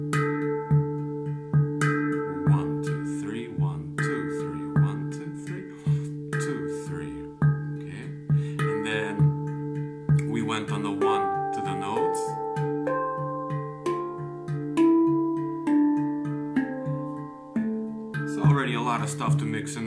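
A handpan plays a steady rhythm in groups of three, with every other group accented on the second beat. Its bright ringing metallic tones are close and clear, heard alone.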